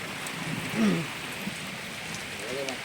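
Rain falls outdoors at a song video shoot in a rural Chhattisgarh area, a continuous soft patter and hiss, with a brief faint voice-like murmur over it.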